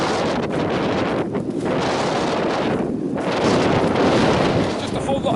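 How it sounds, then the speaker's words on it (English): Strong wind on a snowy, whited-out mountain summit roaring steadily across the microphone, loud and continuous with gusting swells throughout. "the clouds come in again and the wind's picking up a bit"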